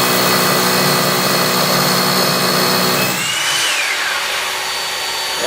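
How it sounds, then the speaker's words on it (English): A loud, steady whine of a power drill drilling silica-producing material with a dust vacuum attached and running, the tone shifting and dropping partway through before settling into a lower hum. "it's going to go ahead and kick on the vacuum, and then you're ready to drill."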